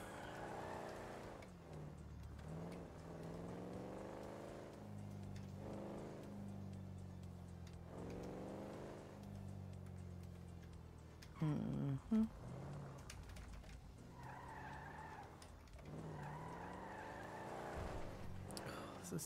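A car in the EvergreenRP game revs and shifts through rising engine sweeps, then tires screech briefly near the end over steady engine drone, fairly quiet with some background voice.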